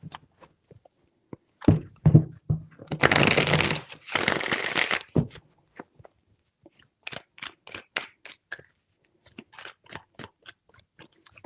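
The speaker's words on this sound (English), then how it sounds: "Four shuffles." Tarot cards are shuffled by hand in several quick, crisp bursts of riffling and tapping, close and fairly loud, with a longer shuffle in the middle and scattered light card taps afterward, no talking.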